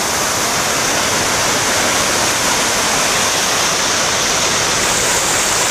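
Waterfall in Catanduanes, Philippines: a loud, dense, steady rush of falling water, close and continuous with no voices.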